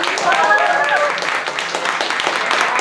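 Audience applause at a youth poetry slam, a dense steady wash of clapping that holds for about three seconds with scattered whoops and voices mixed in.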